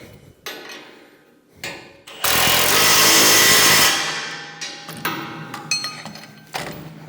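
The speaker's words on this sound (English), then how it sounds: "Open end of your wrench and tighten her back up." A metal open-end wrench clinks and ratchets against a nut on a MUSKOX 26-84 snowblower auger, with irregular close-up taps and scrapes and one longer harsh grinding burst in the middle.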